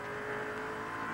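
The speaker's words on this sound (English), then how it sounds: "listen to that deep-throated roar of the engine. The big V8 as he sets out in pursuit of Moffat" Big V8 of the number 17 Falcon race car at Bathurst, a sustained, fairly faint engine roar with a steady pitch through the short stretch.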